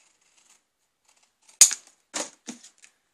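Scissors cut paper for a journal pocket insert: a quiet start gives way to three crisp, close snips, one after another, with no talking.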